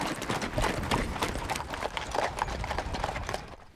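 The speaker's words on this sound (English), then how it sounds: "Back on the move, the horses pick up the pace" Hooves clip-clop in a quick, irregular rhythm, several horses moving together over ground on a long-distance horse drive, amid rustling and faint background noise.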